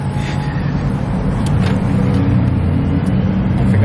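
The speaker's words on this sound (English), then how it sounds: "I think I'm scared of traffic." Street traffic rumbles through a city centre, with a steady mass of engine noise and passing vehicles swelling slightly, heard up close from the pavement with no talk.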